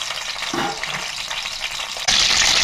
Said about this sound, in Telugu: నాలుగు కరివేపాకు రెబ్బలు వేసి కొద్దిగా పచ్చిమిరకాయలు వేగే వరకు వేయించుకుందాం